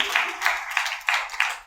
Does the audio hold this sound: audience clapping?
yes